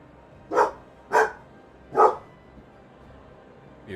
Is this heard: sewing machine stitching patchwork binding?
no